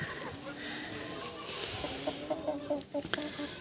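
Chickens cluck softly in a garden vegetable plot on a sunny day, a few short clucks rising toward the end over steady outdoor background noise, with no talking.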